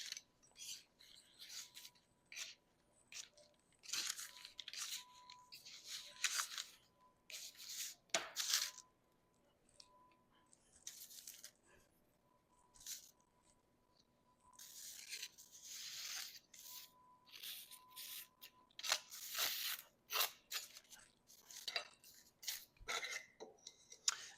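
Knife cutting a cookie house piece from dough, a long stretch of light scraping, clinks and taps in irregular bursts, close and quiet with pauses between.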